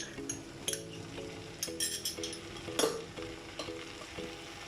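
Onions, ginger and garlic fry in a pot with a continuous sizzle, broken by clinks and scrapes of a utensil against the metal and a few sharper knocks.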